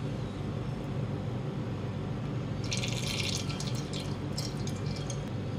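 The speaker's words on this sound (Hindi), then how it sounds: "क्वार्टर कप ऑयल डालूँगी" Quarter cup of cooking oil poured into a pan for aloo gosht, a soft liquid trickle and light spattering arriving partway through over a steady low background hum, no talking.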